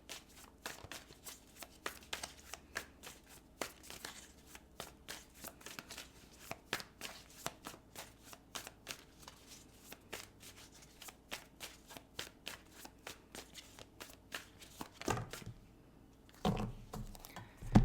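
Tarot cards are shuffled and drawn close up, a long run of quick riffling flutters and soft slaps at steady pace, ending with a few louder card snaps and handling sounds.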